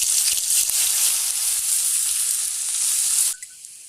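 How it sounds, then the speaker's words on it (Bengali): Potatoes hit hot oil in a pan and fry with a loud, dense, hissing sizzle that runs steadily before cutting off abruptly near the end. "তেলটা গরম হয়ে গেছে, আমি এবার আলুগুলো দিয়ে দিচ্ছি।"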